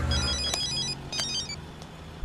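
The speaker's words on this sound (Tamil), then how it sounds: "சார் கமிஷனர் ஃபோன் பண்றாரு." A telephone rings in a police setting, two bright trilling bursts over a low background rumble, moderately loud and close, with no speech.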